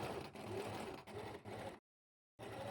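Sewing machine stitching along the edge of scrunchie fabric with a half-inch seam allowance, a steady close whirring hum in three bursts, then a brief silent pause before stitching resumes, with no talking.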